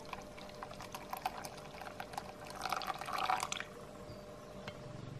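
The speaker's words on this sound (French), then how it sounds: "celui de verser le café" Coffee poured into a bowl, a quiet trickling stream with small splashes and drips, swelling briefly as the bowl fills, heard up close in a calm room.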